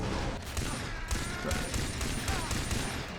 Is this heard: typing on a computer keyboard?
no